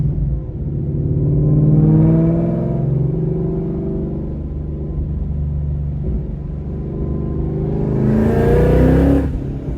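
A supercharged or turbocharged performance car engine revving hard and accelerating, with a loud sustained roar that swells, eases, then climbs sharply again near the end, heard alone without talk.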